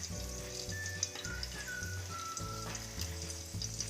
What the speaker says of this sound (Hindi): हरी मिर्च को हमें थोड़ा सा फ्राई करना है